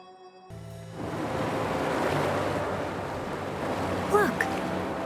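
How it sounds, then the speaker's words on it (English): Water draining and receding in the Wuthering Waves video game, a steady broad rushing wash of surf-like water with a breezy edge, loud and continuous after a quiet start, with a brief high chirping near the end. "Look, the water is going down."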